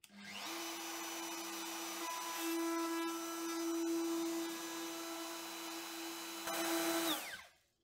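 A handheld router bevels the edges of a new acrylic lens for a Lewmar portlight, giving a steady, loud high-pitched whine that holds for several seconds before spinning down at the end.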